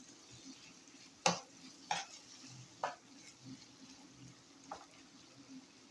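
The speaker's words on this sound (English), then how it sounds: "I'll give it a nice stir to incorporate everything" Plantain and beans pottage stirred in a pot, quiet wet simmering under a few distinct spoon knocks and scrapes against the pot spaced a second or so apart, close and fairly soft, no one talking.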